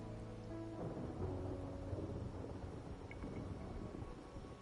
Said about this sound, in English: As we casually stand in the rain.